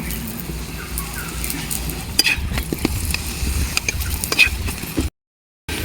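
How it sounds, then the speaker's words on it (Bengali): Potato paratha frying in a little oil on a hot tawa: a soft, continuous sizzle with scattered scraping and clicking of a spatula, fairly quiet and close, briefly cutting to silence near the end. "আমি এবারে অল্প অল্প আমি তেল দিয়ে আমি এগুলোকে ভেজে নেব"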